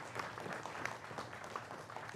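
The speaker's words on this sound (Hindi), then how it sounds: "जोरदार तालियों के साथ अभिनंदन करिए हमारे चारों मेहमानों का।" A studio audience on a Hindi television debate show applauds the four guests, a steady wash of clapping heard faintly and evenly throughout.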